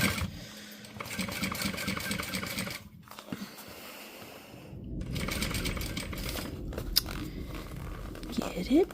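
A sewing machine stitches fabric in rapid bursts of needle clatter, pausing twice for brief breaks, close and fairly loud, with a voice speaking intermittently around the stitching.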